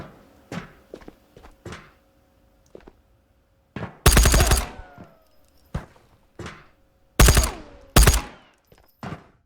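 A Tommy gun firing in the VR shooter Ghosts of Tabor, with loud short bursts around four and eight seconds set between sparse thuds and footstep-like knocks in an otherwise quiet space.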